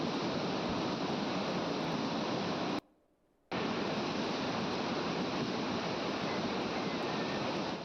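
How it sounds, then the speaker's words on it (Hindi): A flooded river in spate during heavy monsoon rain gives a dense, steady, loud roar of rushing water that drops out briefly partway through, then resumes unchanged. "जिले की कई ऐसी नदियां हैं जो उफान पर हैं। और ये तस्वीर आपको डराने वाली, एक बार इस आवाज को सुनिएगा ताकि आप इस नदी के इस स्वरूप को पहचान सकें।"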